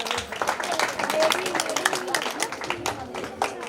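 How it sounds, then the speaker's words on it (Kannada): A festival crowd at a village fair auction claps in dense, uneven applause, with voices talking over the clapping. "ಚಪ್ಪಾಳೆ ತಟ್ಟಬೇಕು ಎಲ್ಲರೂ."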